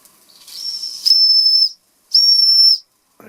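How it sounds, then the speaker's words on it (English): A 1926 Bing toy steam engine lets out two loud, close bursts of steam, each about half a second long, hissing with a piercing whistle-like tone and separated by a short silence. "I think steam's up here."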